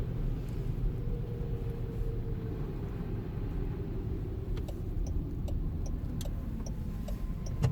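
Jaguar I-Pace electric car accelerating on a snowy road, a steady low rumble of tyres and motion noise throughout with faint ticking clicks toward the end, no talking.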